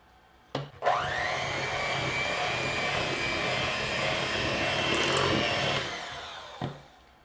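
Electric hand mixer beating peanut butter into cookie dough: a few clicks, then a steady, loud motor whir running about five seconds before winding down, followed by a final knock, close up with no speech.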